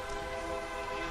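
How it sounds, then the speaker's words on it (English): A loud train passes close by, its horn blaring as a dense, sustained multi-tone chord over heavy rumbling, filling the whole brief moment with no voices. "That's a loud train."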